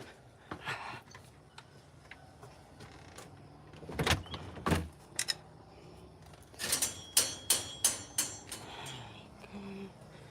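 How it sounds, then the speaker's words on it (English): Indoors, a door is handled and shut, giving a couple of sharp knocks midway followed by a quick run of clicks and latch taps near the end, with faint movement in between. "Let me close the door."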